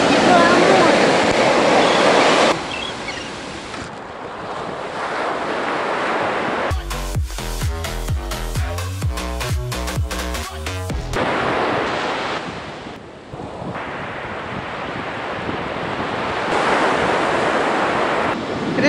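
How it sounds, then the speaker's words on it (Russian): Ocean waves wash and roar in a steady, loud broadband rush along an open shoreline where dolphins swim offshore, mixed with wind buffeting the microphone; a brief burst of music briefly interrupts the surf midway. "Какие волны"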